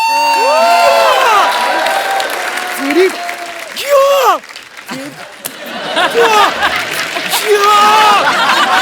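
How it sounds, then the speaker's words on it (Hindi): An audience roars with loud applause and excited cheering for a contest winner, with whoops and shouting voices rising over steady, dense clapping. "सेलिब्रेशन, जोरदार तालियां।"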